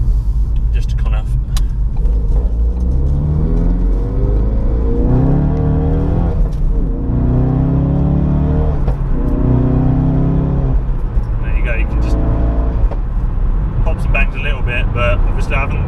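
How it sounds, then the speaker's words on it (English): A Ford Focus RS MK3, tuned to 400 bhp with a Mountune V3 exhaust and set in sport mode, drones loudly and steadily while driving, its exhaust note rising and shifting through early gear changes with a voice talking over it. "the Mountune V3 exhaust system, which sounds much better than the stock"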